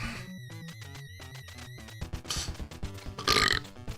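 A person lets out a few loud, gurgling burps in short bursts over retro background game music during a TMNT NES play session.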